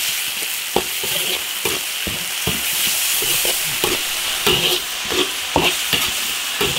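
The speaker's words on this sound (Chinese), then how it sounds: "把所有的调料都给它炒香炒入味。" Ginger, scallion, Sichuan peppercorns, chilies, spices, soybean paste and chili sauce are stir-fried in oil in an iron wok for spicy lamb head. A constant loud sizzle runs throughout, punctuated by regular clanking spatula strokes.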